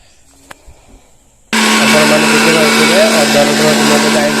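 A kitchen mixer grinder switches on abruptly after a quiet start and grinds masala of onion, ginger and garlic for a chicken dish, giving a loud, steady, high motor whine that continues to the end.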